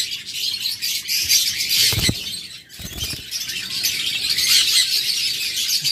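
A crowd of caged pet birds chirps continuously in high, dense tweeting, with occasional rustling and brief low thumps from the cages, no talk.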